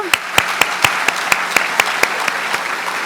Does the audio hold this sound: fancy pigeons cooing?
no